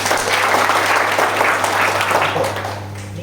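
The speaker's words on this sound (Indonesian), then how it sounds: "Kita tepuk tangan buat Vino." Church anniversary audience clapping for a young participant named Vino, a dense, steady burst of applause from a crowd that holds for about three seconds before easing slightly, with a low hum underneath.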